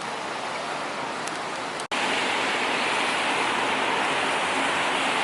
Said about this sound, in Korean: 비 오는 시카고.